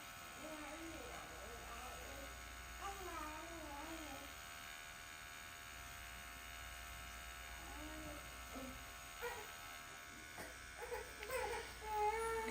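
A tattoo machine buzzes faintly as its needle works a Pennywise horror-villain design into a melon. The thin, steady electric hum runs under continuous close conversation.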